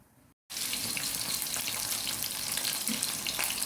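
Curried goat cooks Jamaican style in a covered pot, giving off a steady, close sizzle like frying that runs unbroken after a brief silent start.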